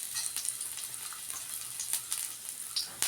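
Chopped onion sizzles in a little oil in a pan, a steady bright crackle with scattered pops and spits, close and alone without talk.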